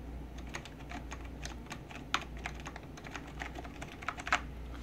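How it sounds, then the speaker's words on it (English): Steady typing on a mechanical keyboard, rapid clicky keystrokes with a few louder taps, close and alone. "I'll give you a quick sound test just so you can hear the keyboard"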